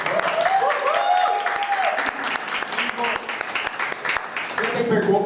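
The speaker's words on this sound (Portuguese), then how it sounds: "Palmas para os nossos dubladores." An audience at a Brazilian press conference gives applause for the voice actors, with a dense, steady clatter of clapping lasting the whole stretch as a voice speaks over it.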